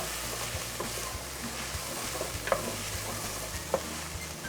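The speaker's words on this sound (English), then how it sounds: "So my garlic and ginger have been cooking for maybe 30 seconds or a minute." Garlic and ginger sizzle in a pot on the stove with a continuous close crackle, and a few soft scrapes and clicks come through as they are stirred, with no talking.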